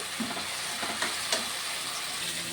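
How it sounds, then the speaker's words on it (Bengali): Ginger garlic paste fries in hot oil over browned onions for an egg curry, making a close, even sizzle with a few soft bubbling pops, and no voices. "আদা রসুনটাকে কাঁচা গন্ধ পর্যন্ত ভাজা ভাজা করে নেব।"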